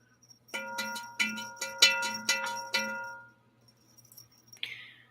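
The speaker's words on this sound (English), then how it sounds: "Or wait, I have better chimes." Jade chimes rung at a monastery ceremony: six clear, bright strikes in steady succession, each ringing with a long metallic decay before fading, followed by a faint soft shimmer.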